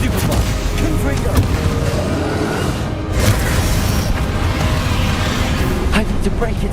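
A Confringo spell explodes during the final boss battle in Hogwarts Legacy amid dense, loud game audio, with rumbling booms and crashes layered under continuous music and effects and a short dip around three seconds.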